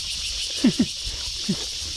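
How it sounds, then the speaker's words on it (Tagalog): Crickets chirp in a forest near a river as a constant high, even chirring that fills the whole stretch. A few short, soft low knocks stand out over it. "daming kuliglig ah"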